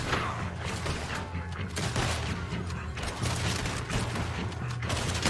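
Repeated gunshots from a single-shot gun in the video game Red Dead Redemption 2, sharp bangs spaced irregularly across a few seconds amid mechanical clatter and game ambience, fairly close and loud.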